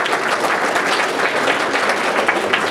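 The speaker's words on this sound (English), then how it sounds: "let's give applause one more time" A lecture audience gives a dense, steady round of applause, many hands clapping together at even loudness from start to end.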